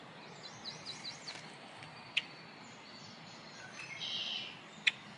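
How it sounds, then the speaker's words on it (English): A red-winged blackbird calls outdoors with a few short, sharp chirps, two of them standing out clearly, over a steady, quiet background hiss. The calls are brief and moderately distant. "The red-winged blackbird."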